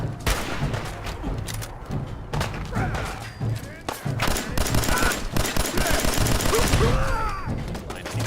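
Rapid gunfire and a grenade blast in the game Fallout 4, with dense, close volleys of shots and heavy thuds that build toward the end while a voice talks over the fighting.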